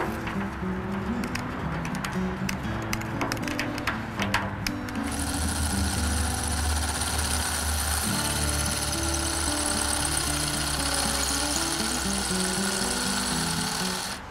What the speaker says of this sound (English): marking the bottom 2 holes to drill those out